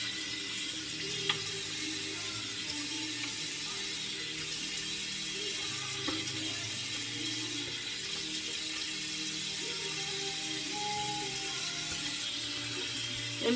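Water runs steadily from a tap while a face is rinsed during a skincare routine, a constant close hiss and splash that never stops, with no talking.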